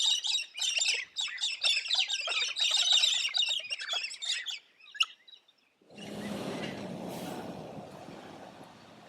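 Galah cockatoo calling in the open, a rapid run of harsh, raspy screeches for several seconds, a brief pause with a sharp squawk, then a broader rushing noise takes over.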